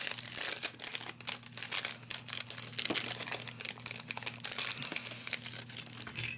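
Paper crinkles and rustles in close, irregular bursts as a handmade coffee- or tea-themed gift card holder is opened and handled.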